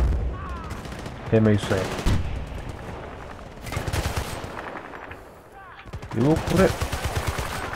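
Machine gun fire in Battlefield: Bad Company 2 rattles in rapid bursts with distant shots between them, loud and steady, while someone talks over it.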